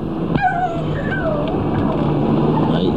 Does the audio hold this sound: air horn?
no